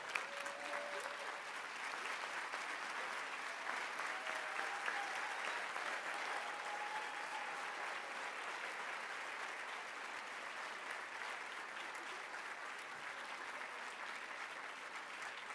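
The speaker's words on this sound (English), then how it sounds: "So if you could stand up for them and give them a round of applause." An education summit audience claps for students, producing sustained, even applause from a crowd heard at a moderate distance throughout.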